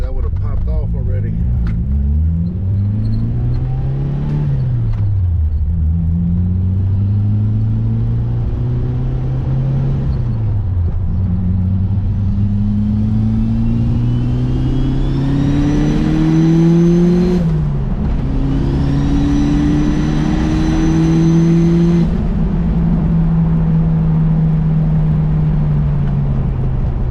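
Engine of a 400hp 1999 Mitsubishi Eclipse GSX pulls under partial throttle from inside the car, its droning pitch rising and falling through gear changes with a whining turbo, steady and loud throughout.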